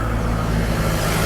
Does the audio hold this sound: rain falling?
no